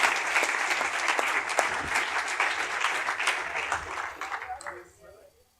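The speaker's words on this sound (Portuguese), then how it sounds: "Quantos podem aplaudir Jesus bem forte?" Church congregation applauding Jesus loudly during a worship service, a vigorous burst of clapping with voices mixed in, dying away near the end.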